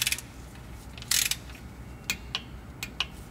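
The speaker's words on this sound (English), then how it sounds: "using my torque wrench, I'm going to torque these bolts down to 100 inch pounds each." Torque wrench tightening transmission bolts to spec during a shift pressure solenoid replacement: a few faint, sharp clicks and short ratcheting bursts spaced out over a low steady hum, no talking.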